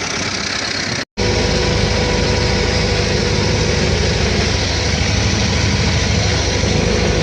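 A T-40AM tractor engine running loud and close, a steady rumbling drone that drops out for an instant near the start and then carries on unchanged.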